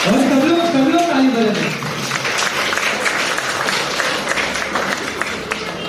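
A crowd at a summer camp dance academy showdown applauds steadily, with a voice speaking over the opening and the clapping carrying on at even strength to the end.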